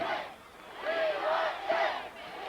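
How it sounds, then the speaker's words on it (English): Fans of Thornton cheer and shout as a crowd during a 1986 Class A state championship high school football game against Bangor, a loud swelling roar with rising yells that surges twice. "Thornton fans cheering in front of us."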